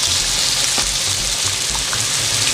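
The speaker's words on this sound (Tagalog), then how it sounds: "fry muna natin yung liver. So lagay na po natin yung chicken liver." Chicken liver sizzles in a hot pan of oil, a steady bright hiss with crackling spatters and a faint low hum underneath, continuous and close.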